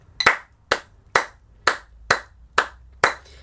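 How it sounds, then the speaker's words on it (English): Seven sharp hand claps in a steady, even eighth-note pulse, close and alone in a rhythm practice exercise for playing fast. "So you clap the 8 notes"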